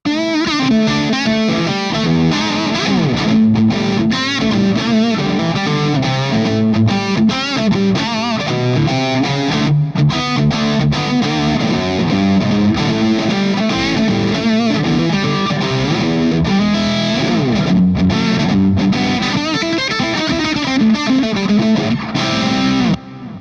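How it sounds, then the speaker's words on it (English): Heavily distorted Les Paul electric guitar through a Universal Audio Diesel VH4 amp plugin plays continuously and loud, thick with sustained overdriven chords and harmonics, with no pauses. "You were hearing my Les Paul on the left-hand side going out into a Universal Audio Diesel VH4 plugin"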